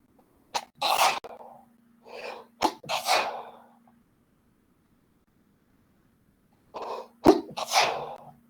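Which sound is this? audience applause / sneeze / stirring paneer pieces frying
sneeze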